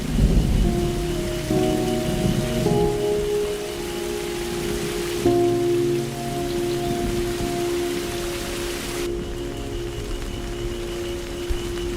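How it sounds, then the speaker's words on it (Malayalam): Heavy rain pours steadily outside a home during a delivery, a dense continuous wash with low rumbles of thunder and faint sustained tones, moderately loud and without speech. "നല്ല മഴയാ, കുറഞ്ഞിട്ട് പോ, അകത്തോട്ടിരിക്കാം."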